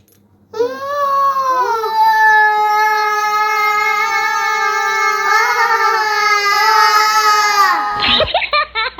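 A voice imitates an elephant's trumpet call as one loud, sustained, wavering cry lasting about seven seconds. It ends in a brief clatter of noise.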